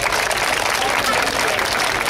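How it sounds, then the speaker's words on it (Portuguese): At a Mother's Day school party, a room full of people applauds the mothers in a dense, loud, continuous burst of clapping, with voices mixed in. "agora eu vou bater mais palmas pra mamãe porque ela merece"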